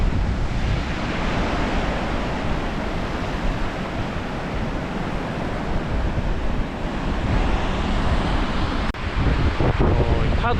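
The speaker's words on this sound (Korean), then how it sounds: "파도가 이렇게 밀려오고 있어요." Waves wash steadily onto the sandy shore of a vast lake, Kapchagay, in Kazakhstan, with snowy Tian Shan mountains behind; a loud, continuous surf roar mixed with wind buffeting the microphone, no talking.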